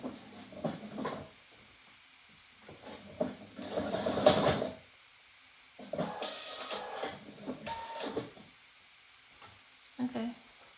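Sewing machine stitching fabric for a jelly roll gift basket, running in several bursts of steady mechanical whirring with pauses between, close and moderately loud, with someone talking over parts of it.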